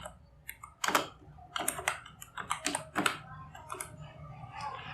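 Close clicking keystrokes on a computer keyboard come in irregular bursts, loud individual taps mixed with quicker runs, heard alone without speech.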